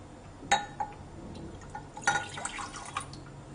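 Water splashes and drips into a glass beaker in a lab setting, a couple of short pouring bursts with clinking glass and trickling, fairly close and otherwise quiet.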